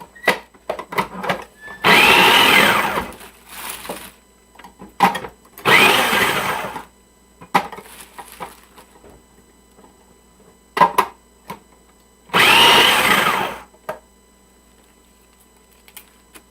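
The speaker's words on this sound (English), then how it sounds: "I'm going to shave cauliflower in my food processor" A food processor shaving raw cauliflower into cauliflower rice runs in three loud bursts of about a second and a half each, separated by quieter clattering and handling noises between pulses.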